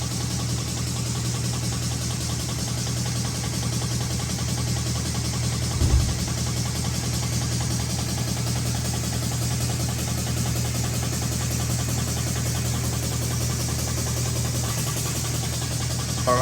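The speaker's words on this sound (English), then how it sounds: "The machine stopped because it's no longer pumping in." A coolant filling machine pumping coolant into a Kia Forte during water pump replacement, giving a steady, droning mechanical hum with a faint thump near the middle, continuous and close, with no voices.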